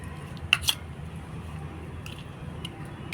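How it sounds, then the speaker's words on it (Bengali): Raw prawns being mixed by hand with turmeric, heard as a few faint, wet squishing and sticky smacking sounds close up in an otherwise quiet room. "এবারে হলুদ মাখিয়ে নেবো এবার খুব ভালো করে এটা মাখিয়ে নিতে হবে"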